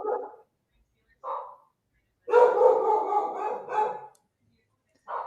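A pet dog howls and bark-yips along as if singing, with short bursts at the start, a long loud wavering howl in the middle, and another brief howl at the end, close and alone.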